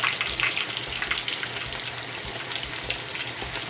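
Brook trout sizzling in a frying pan on medium heat, a steady close crackle of hot oil with small pops throughout and no talking.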